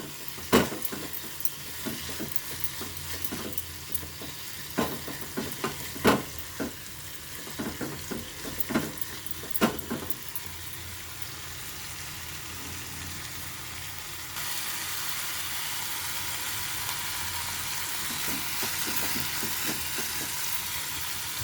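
Mint leaves frying in a pan, a steady close sizzle with scattered sharp crackles and stirring scrapes through the first half, then a smoother, louder continuous hiss later on.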